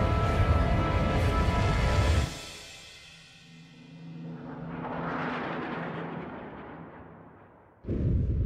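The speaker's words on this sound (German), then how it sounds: "was für eine Explosion" A heavy, rumbling video game explosion in Spore dies away into a long low roar that swells and fades before another loud burst starts at the end.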